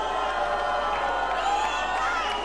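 A wrestling arena crowd roars and cheers in anticipation, a steady wall of many voices with whoops rising throughout, loud and close.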